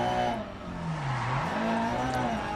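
A rally car slides on a rallycross track in Spain in Dirt Rally 2.0, its engine droning steadily with a pitch that dips and rises again, close and fairly loud, with faint tire noise under it.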